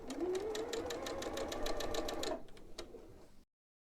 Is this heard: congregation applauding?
no